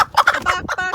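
A person imitates a chicken clucking, with a few quick, close, voiced bok-like bursts.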